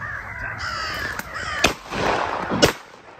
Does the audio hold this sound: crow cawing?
yes